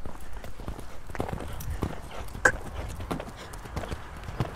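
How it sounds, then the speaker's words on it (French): Hoofbeats of an eight-year-old Selle Français stallion breaking into a gallop, a quick irregular drumming of hooves close by, with faint background noise. "Je vais faire un petit départ au galop, voir comment ça va, s'il n'est pas trop chaud."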